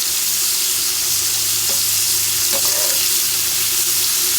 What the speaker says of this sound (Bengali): চিংড়ি মাছ সচরাচর আমরা ভেজে রান্না করি না আজকে দিলাম একটু হালকা ভেজে নিয়ে